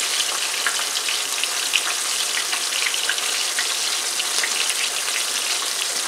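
Six pieces of flounder fry in a pan, giving a steady, bright, crackling sizzle that runs unbroken and fairly loud from start to finish.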